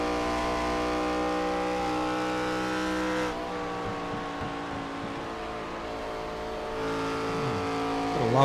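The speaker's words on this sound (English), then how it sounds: "Love that knocking sound when they lift off the gas there." Race cars in an ARCA racing video game at Las Vegas drone with loud harmonic engine tones, then drop off as they lift off the gas, leaving irregular low knocking pops before the engines rev back up.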